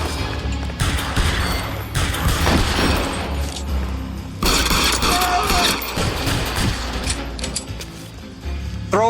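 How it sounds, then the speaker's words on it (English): Bursts of gunfire in the crime video game L.A. Noire, a dense fusillade of shots and booms in clustered volleys with short gaps, loud and close, with mechanical clatter mixed in. "Okay, shots fired now."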